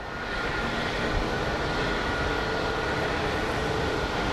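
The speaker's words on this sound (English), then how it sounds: "the Embraer is the first to depart" An Embraer jet departing Phoenix Sky Harbor airport, a steady broadband engine roar heard from a distance at moderate level, with no voices over it.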